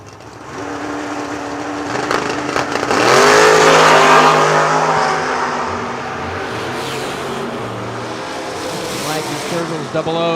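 Drag race cars at the starting line, a Monza and a blue first-gen, idle roughly, then rev hard and launch in a loud surging roar that fades as they pull away. An announcer talks over the engines throughout.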